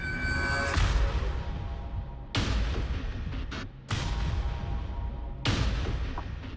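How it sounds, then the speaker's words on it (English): Movie-effect mines detonate under a hovercraft crossing a minefield, three loud booming blasts spaced a second or two apart, each decaying into a rumbling tail. "each mine is calibrated to go boom at 35 pounds of pressure"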